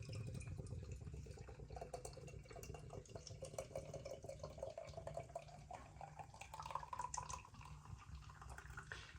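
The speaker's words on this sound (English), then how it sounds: "Giving this a bit of a rigorous pour" Milk stout beer is poured vigorously into a glass: a steady, faint liquid trickle and fizz whose pitch rises as the glass fills, with no talking.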